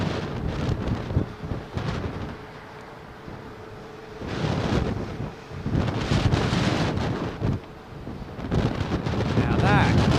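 A London Heathrow airliner going around roars loudly as its engines spool up, a broad rumbling surge in waves, with a voice talking over it.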